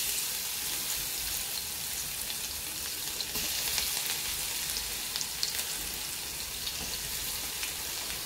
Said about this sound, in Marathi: जिरे परतून झाले की आपण त्याच्यामध्ये लसूण टाकून घ्यायचं आहे